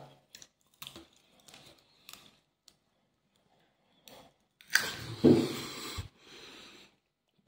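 Crunching of Lleida garlic being chewed, starting with soft scattered mouth clicks and breaths, then a louder close crunchy burst lasting about a second before fading.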